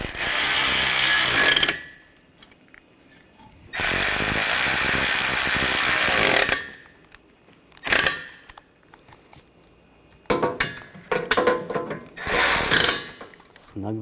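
A ratchet snugs down intercooler bolts on a 2013-2022 Buick Encore 1.4L in several rapid, close-up clicking bursts, each lasting a second or more and separated by quiet pauses.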